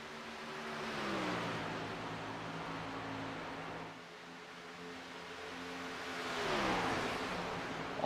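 A race car engine from a stock car racing game at Charlotte Motor Speedway roars past, rising as it approaches, fading, then swelling again with a second steady drone, no talk.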